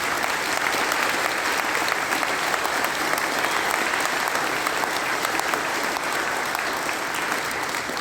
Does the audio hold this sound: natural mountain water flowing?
no